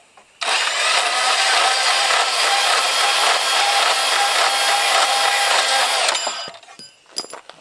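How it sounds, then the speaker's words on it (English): A Milwaukee bandsaw cuts a steel horseshoe at a 45-degree angle, a steady, loud, close-up grinding whine running for about six seconds before it stops and a few light clanks follow. "what I like to use is a Milwaukee bandsaw. So we're going to go ahead and cut that."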